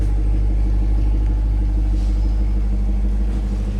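A 2025 Chevrolet Corvette E-Ray 3LZ convertible, a 655 hp eAWD hybrid, idles with a steady, deep exhaust rumble that holds even and continuous throughout, close by and with no talk over it.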